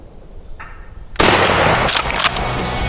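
A single loud gunshot cracks out close by during a wild turkey hunt in the mountains, following a quieter stretch, with a sharp broadband burst and a sustained ringing echo through the woods.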